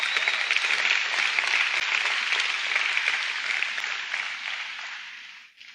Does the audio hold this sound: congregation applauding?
yes